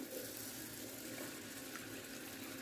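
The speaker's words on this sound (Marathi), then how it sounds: "आता आपण याच्यामध्ये पिण्याचं पाणी टाकून घेऊ" Drinking water poured onto washed rice in a bowl makes a steady, continuous splashing rush, close and fairly even throughout, with no talking.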